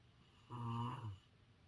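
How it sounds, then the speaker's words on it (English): A single long, loud snore with a deep rasping tone rises and fades in an otherwise quiet room. "Snore."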